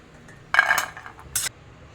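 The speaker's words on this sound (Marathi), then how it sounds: "शेंगदाणे भाजून झालेले आहे आता आपण प्लेटमध्ये काढून घेऊया" Roasted peanuts tipped from a pan onto a plate, giving two short bursts of rattling, clattering scrape against metal, close and fairly loud with quiet between.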